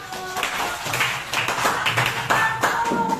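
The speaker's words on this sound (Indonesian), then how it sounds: "Aplaus untuk kelompok 1." A group receives a round of applause in a classroom presentation, with continuous steady clapping from several people close by.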